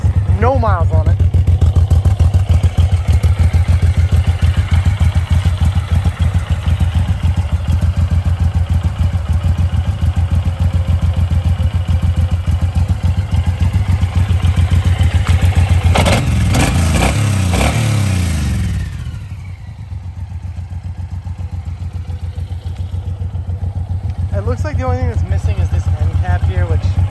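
A 2015 Suzuki M109R motorcycle with 4,900 miles idles with a deep, steady throb, rises briefly into a rev, then drops away and settles back to idle, close and loud.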